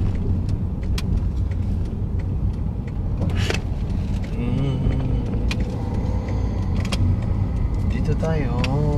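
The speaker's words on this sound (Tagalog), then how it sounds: "maraming sasakyan, traffic." Cars pass in steady road traffic, heard as a continuous loud rumble of engines and tyres from inside a moving vehicle, with people talking over it.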